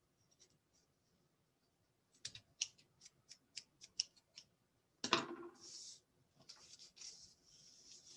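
Sewing scissors trim through the thread of a beaded garland made from Czech seed beads, a quick run of crisp snips followed by a sharp rustling swoop, close and fairly quiet with no talking.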